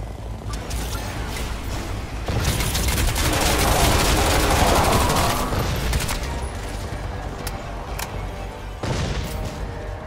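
Gunfire and explosions in the shooter Crysis 2 against aliens, sustained automatic fire with a swelling blast and rumble in the middle, continuing as heavy crackling shots and sharp impacts to the end.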